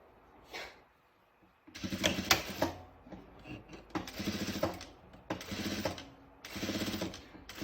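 A sewing machine stitches a seam on a Squid Game-style tracksuit with a welt pocket, running in four short mechanical bursts separated by brief pauses, close and fairly loud.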